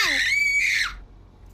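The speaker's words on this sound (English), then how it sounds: "Why did the last one scream?" A character in the video game Horizon Zero Dawn lets out a loud, shrill scream that rises, holds for under a second and then breaks off abruptly, leaving quiet behind.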